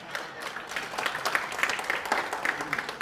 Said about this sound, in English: Now you need to just clap for the guy that's here on stage.